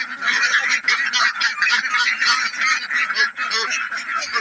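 Domestic ducks call in a dense, continuous chorus of honking quacks, fairly close and steady throughout, with no pauses.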